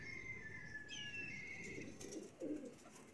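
Teddy pigeons in a breeder's loft coo softly in low, throaty murmurs, faint and close, while thin bird chirps and a brief flutter of wings sound in the quiet background.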